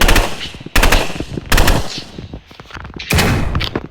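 Loud video game gunfire from a high firing position, rapid machine-gun bursts in four separate volleys with brief gaps between them, close and dominant.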